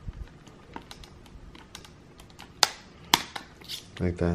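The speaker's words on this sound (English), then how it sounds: "I'm going to use a plastic trim tool to pop these needles out." Plastic trim tool prying the needles off a 2008 BMW 335i's speedometer and tachometer gauges, faint scratchy clicks followed by two sharp pops, with a brief spoken remark near the end.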